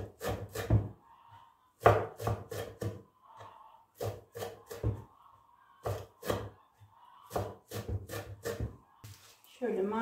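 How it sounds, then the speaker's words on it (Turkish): Fresh dill chopped finely with a knife on a board, in bursts of quick, close knocks separated by pauses, with a low hum underneath and no talking. "Sıra geldi dereotlarıma. Onu da incecik. Kıracağım."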